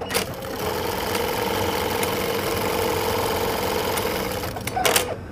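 An He-800a industrial machine with a production counter runs with a fast, steady mechanical whirring and chatter, ending in a few sharp clicks and knocks.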